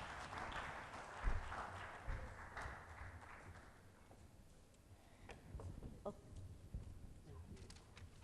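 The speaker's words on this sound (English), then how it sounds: "Ladies and gentlemen, a round of applause to the Director" Audience applause at an awards night in Colombo, a broad wash of clapping that swells in the first few seconds and then thins out, with scattered louder claps and some background voices underneath.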